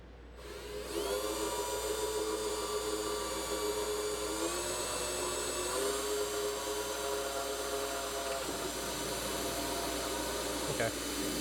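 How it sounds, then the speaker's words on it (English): A power drill whines steadily at high speed while drilling through a roof corner, its pitch shifting slightly as it bites through material, running continuously with little pause. "drill right through the corner."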